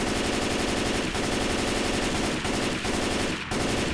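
Continuous loud automatic gunfire in Left 4 Dead 2, rapid shots with a few brief dips, dense and unbroken throughout.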